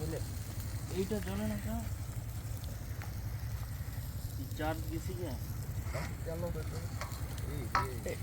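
Barbecue sizzling as it cooks on an island in the Bay of Bengal, a steady frying hiss with stirring under nearby talk and a low engine-like hum.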